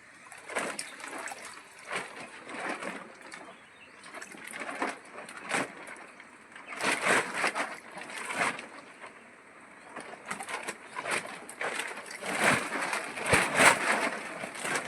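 Wild alimb mushrooms from a farm field are washed by hand in clean water, giving repeated splashes and trickles in irregular bursts throughout, close and fairly soft, with no speech.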